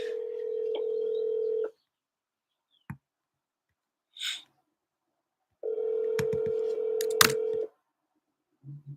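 Telephone dialing before a phone call: a steady dial tone runs for almost two seconds, then a few sharp clicks and short beeps follow, and a second long stretch of dial tone carries button beeps and clicks over it, close and clear, with no talking.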